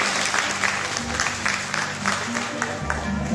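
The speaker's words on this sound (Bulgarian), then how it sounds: "овации" Applause fills a sports show at an MMA club in Polski Trambesh, steady clapping from a crowd with a few voices mixed in, sustained and fairly close.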